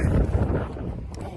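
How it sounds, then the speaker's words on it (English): Blustery coastal wind at Giant's Causeway buffeting the microphone: a short, loud, roaring gust that eases slightly toward the end. "So it's a little windy, as you can probably tell."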